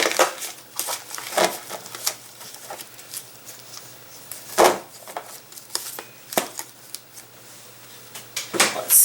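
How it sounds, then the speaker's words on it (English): A deck of playing cards is shuffled continuously, with papery rustling and sharp riffle bursts at irregular intervals, close and fairly loud, without talk. "I'm just gonna keep shuffling."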